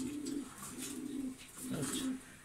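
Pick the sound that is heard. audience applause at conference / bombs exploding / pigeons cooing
pigeons cooing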